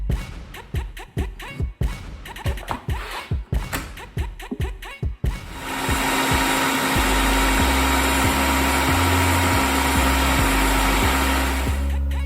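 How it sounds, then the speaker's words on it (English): A high-speed blender purees chopped okra into a paste: a few seconds of short, choppy pulses and knocks, then the motor settles into a loud, steady whir with a shifting low rumble until the end. "I'll blend the other half into a paste,"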